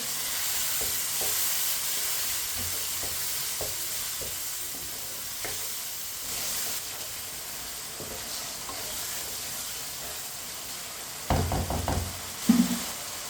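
A spoon stirs peas and carrots in a pan with added water, giving soft repeated scraping strokes over a faint sizzle, ending with a few louder knocks against the pan.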